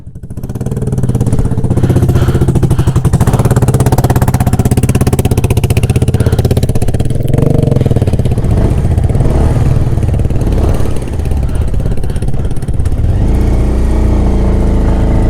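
A motorcycle engine roars loud and close, labouring uphill on a mountain road from Ilam to Sandakphu, losing power, with uneven throttle bursts for a sustained stretch.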